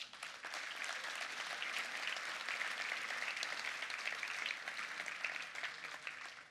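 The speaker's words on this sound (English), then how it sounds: "Please give yourself a round of applause." Steady round of audience applause at a software developer conference keynote, a continuous wash of many hands clapping at moderate distance, even in volume throughout.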